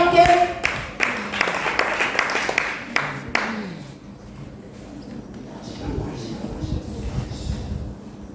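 Applause at a youth gift-exchange night, Vijana Dekania ya Tegeta, with a burst of close, sharp hand claps in the first few seconds that thins out and fades into quieter room noise and murmuring.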